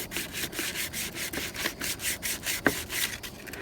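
Sandpaper scuffing the surface of a plastic chicken waterer container, a steady series of close, rhythmic rubbing strokes with one sharper scrape partway through.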